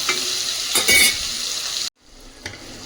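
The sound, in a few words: frying grated ingredients and tomatoes being stirred in a pan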